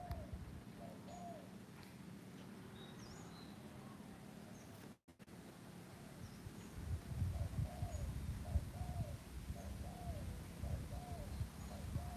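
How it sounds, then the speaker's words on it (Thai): Birds call in a bamboo forest at a morning countryside resort, repeated soft cooing and hooting notes at a distance over a low background rumble, faint and without talk. "ยินเสียงนกร้องไหมครับ"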